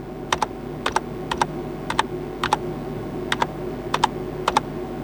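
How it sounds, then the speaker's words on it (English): A single key, the tab key on a computer keyboard, pressed again and again in paired clicks at an irregular pace, close and clear over a quiet background. "Use the tab button on your keyboard and keep pressing it until you find the TWRP."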